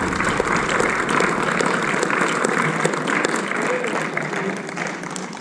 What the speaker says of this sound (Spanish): Dele fuerte el aplauso a Dios que lo va a dar.